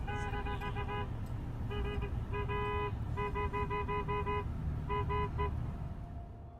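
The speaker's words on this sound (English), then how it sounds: "other motorists can be heard honking their horns at him to move his vehicle out of the way" Several car horns honk in short bursts and longer blasts, close and loud, over a steady rumble of traffic.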